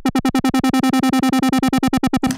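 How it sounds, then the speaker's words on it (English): A synth patch in Native Instruments Massive pulses in a fast, even rhythm of about twenty short, loud notes while a macro knob sweeps the filter cutoff, keeping the tone bright and buzzy throughout. "if I turn my macro knob now, that's in effect turning the cutoff knob itself up and around"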